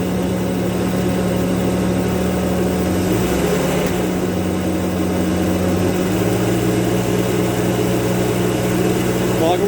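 Engine of a 1991 Mercruiser 4.3 V6 Alpha One sterndrive boat running steadily and loudly, its pitch shifting upward as the RPMs rise, a continuous close drone throughout.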